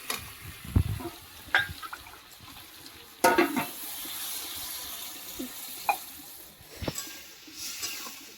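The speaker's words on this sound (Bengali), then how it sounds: "এবার একটু জল দিয়ে দেবো।" Cauliflower stalks cooking in a pan as water is added, soft bubbling and low sizzling with occasional clanks and a louder splash-like burst partway through, near and without speech.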